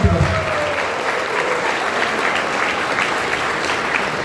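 Applause from a college event audience in Pune, a steady dense wash of clapping that starts strong and holds evenly throughout.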